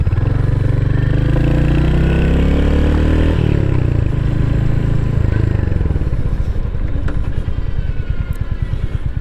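A Royal Enfield Hunter 350 single-cylinder motorcycle thumps loudly out of its exhaust, revving up and settling into a steady close, rhythmic chug with no talk.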